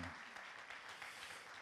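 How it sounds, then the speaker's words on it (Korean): Applause from a church congregation at a Jubilee unification prayer concert, a brief dense wash of clapping that sounds even and steady throughout. "우리 그 하나님께 영광의 박수 한번 더 올려드리겠습니다."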